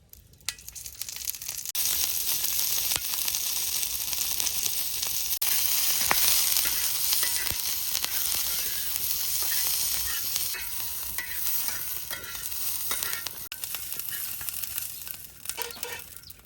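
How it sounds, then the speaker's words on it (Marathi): Green chillies frying in oil for a spicy homemade chutney, a dense steady sizzle and crackle that holds close and loud for most of the stretch, fading in at the start and easing off at the end, with no talking. "मिरच्या भुजून घेतो चटणीसाठी."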